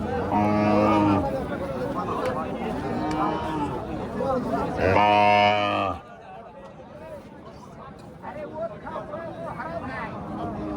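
Friesian cattle at a busy livestock market, with two long, loud nearby moos a few seconds apart, set against a constant murmur of crowd chatter and voices.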